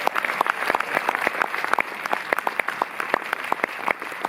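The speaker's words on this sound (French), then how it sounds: "Cette année, on peut les applaudir très très très très fort." A cinema audience at Le Méliès in Montreuil applauds after a screening, dense continuous clapping from many hands filling the hall at an even level throughout.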